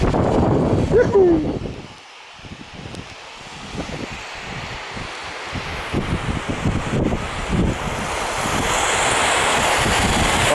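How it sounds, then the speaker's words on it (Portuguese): Sudden heavy rainstorm in Belo Horizonte, Brazil, a loud steady roar of pouring rain and gusting wind that dips briefly near the start, then builds, with a short voice sound early on. "Tempestade louca agora em BH."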